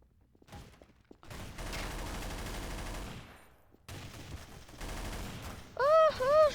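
Gunfire from the video game Counter-Strike: Source comes in two sustained bursts of rapid shots, each lasting a second or more with a pause between, followed by a short trailing sound at the end.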